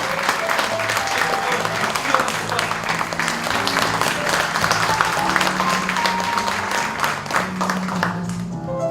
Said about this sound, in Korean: 여러분 큰 박수로 부탁드립니다